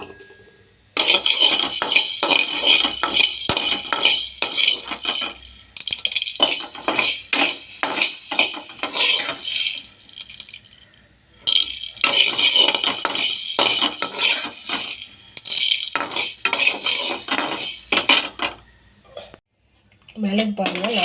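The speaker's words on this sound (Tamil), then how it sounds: "மிளகு போட்டு வறுத்துக்கலாம்" A metal spoon scrapes and clinks against a heavy pan while black pepper is roasted and stirred, coming in busy, close bursts of scraping and rattling separated by short pauses.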